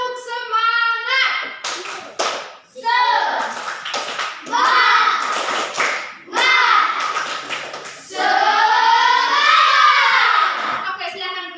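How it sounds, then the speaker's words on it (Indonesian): A classroom of children and their teacher perform a rhythmic spirit clap, bursts of hand claps in patterned beats mixed with children's chanting and shouting voices, loud and close throughout. "Tepuk semangat kita dulu."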